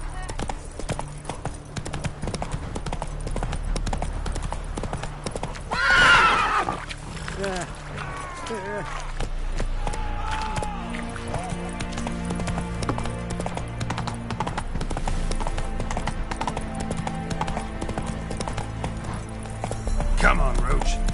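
Roach the horse gallops in The Witcher 3, rapid rhythmic hoofbeats pounding steadily with a whinny partway through, mixed with game music and voices.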